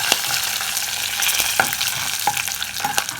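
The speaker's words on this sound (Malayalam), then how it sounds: "ചൂടായ ഓയിലോട്ട് തേങ്ങ ചിരവിയത് ഇട്ട് കൊടുത്തിട്ടുണ്ട്" Grated coconut sizzles and crackles in hot oil in a pan, with a steady frying hiss and occasional scraping stir sounds near and up close; no voices.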